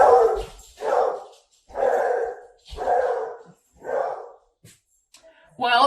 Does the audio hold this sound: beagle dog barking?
yes